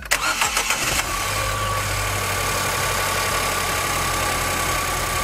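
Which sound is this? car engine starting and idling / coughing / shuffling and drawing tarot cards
car engine starting and idling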